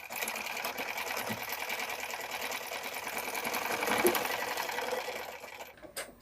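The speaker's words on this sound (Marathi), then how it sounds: "या डाचाला आपण परत एकदा शिलाई देऊन घेऊयात." A sewing machine runs continuously, stitching a dart on a blouse with a close, steady mechanical whir that swells slightly before stopping near the end.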